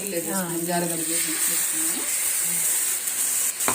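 Stuffed bitter gourds fry in a pan of masala and oil, a steady bright sizzle running throughout, close and fairly loud, with some faint tonal sounds in the first two seconds.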